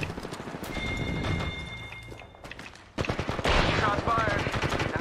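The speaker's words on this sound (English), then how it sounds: "Shots fired." Gunfire in the video game Apex Legends, with rapid automatic bursts and other game effects running for several seconds, with voices speaking over it.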